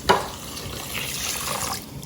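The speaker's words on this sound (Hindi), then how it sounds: "इनको वॉश करके बस मैंने सोक करके रख रही हूँ।" Soaked rice is rinsed under running water, giving a continuous close splashing wash with a soft clink at the start and no voices.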